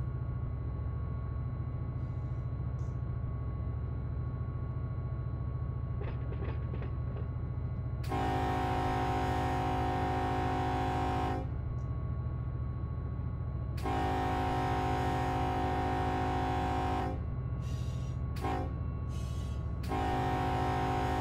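A locomotive in the Run 8 Train Simulator game rumbles steadily throughout, with a low engine drone joined by several long horn blasts of differing lengths near the end, loud and without talk.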